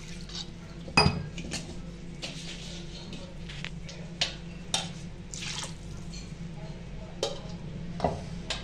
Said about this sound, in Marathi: थोडस मिक्सी धुवून पाणी टाकून घेते मी त्यात